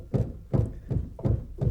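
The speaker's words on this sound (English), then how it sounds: "That's the sound of milling, and that's the grain being shaken down and dropping between the" Windmill millstones grinding grain, with grain shaken down between the stones, give a rhythmic series of five dull, muffled knocks about every 0.4 seconds, close and steady.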